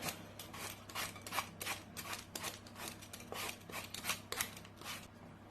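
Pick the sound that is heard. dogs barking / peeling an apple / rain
peeling an apple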